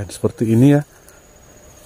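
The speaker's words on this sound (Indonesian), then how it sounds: "Nah, ini ada suara jangkrik teman-teman" Crickets chirp at dusk in a bamboo forest, a faint thin steady tone behind someone speaking briefly up close, then continuing alone and quiet.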